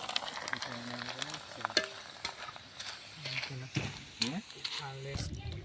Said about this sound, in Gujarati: જુઓ પૌવા તળાવ આવી ગયા છે